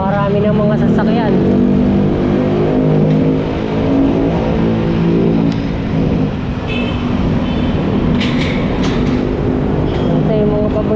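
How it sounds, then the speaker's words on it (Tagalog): Heavy road traffic near SLEX, many cars and buses passing close with a continuous loud roar and engine drone, and brief voices near the end. "Napakarami ng mga sasakyan."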